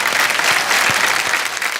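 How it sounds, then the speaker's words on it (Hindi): Audience applause at the IIFA 2023 awards show: a dense, steady wash of many hands clapping from a large crowd, loud and continuous for the whole stretch. "मैं आप सबके लिए मैं चाहूंगा कि आप खुद अपने लिए जोरदार ताली बजाएं।"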